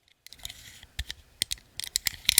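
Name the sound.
scissors cutting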